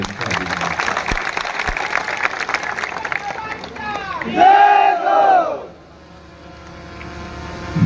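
A large crowd at a political rally roars and cheers loudly, with a dense wash of noise, shouted voices and a long rising chant-like swell before it drops away into a quieter murmur.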